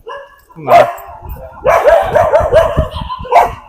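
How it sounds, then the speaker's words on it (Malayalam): Several dogs bark repeatedly at night in Matheran, fairly close, in a burst of overlapping barks with a pause between volleys and a final bark at the end. "നായ്ക്കളുണ്ട്"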